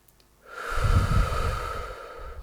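One slow, close breath is drawn in through the nose and then blown out through the mouth in a soft, airy rush that fades gradually, as part of a calming stress-relief breathing exercise.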